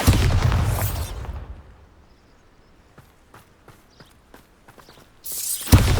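Bombarda spell blasting in the Hogwarts Legacy video game: a loud, near burst opens, fades into quiet broken by short sharp crackles and pops, then a second strong boom hits near the end.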